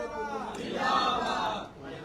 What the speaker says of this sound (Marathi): अंबरनाथमधील राजकीय खेळीनंतर शिवसैनिकांकडून पेढे वाटत जल्लोष करण्यात आला